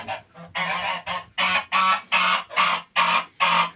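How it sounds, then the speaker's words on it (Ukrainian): A gander honks repeatedly in a steady series of loud, harsh calls, close by, with no talking. "О, цей гусак."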